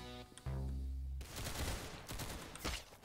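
Rapid automatic gunfire from the Roblox Arsenal shooter game, a loud sustained burst of shots with no talking, following a brief tonal game sound.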